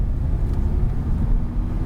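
A Lamborghini at Homestead-Miami race track picks up speed, its engine a steady, dense low rumble heard from inside the car, continuous and fairly loud throughout with no talk.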